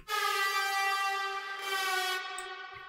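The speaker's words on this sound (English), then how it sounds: "The first layer sounds like this." First layer of a synth lead in a melodic bass track: a bright, buzzy sustained tone with strong evenly spaced harmonics, held steadily at moderate loudness with slight swells, alone without voices.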